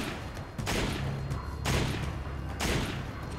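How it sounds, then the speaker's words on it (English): Gunshots in the video game Resident Evil 5, three heavy blasts spaced about a second apart, each with a broad crack and rumbling tail, loud and close. "Hold on, I'll shoot it."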